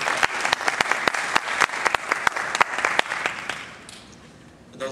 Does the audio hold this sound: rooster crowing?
no